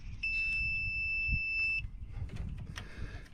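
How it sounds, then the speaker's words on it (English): A multimeter set to continuity gives a single steady electronic beep lasting over a second while probes touch a starter relay circuit on a Scag Turf Tiger mower, followed by faint handling noise. "If the circuit is complete, you will hear beeping noise."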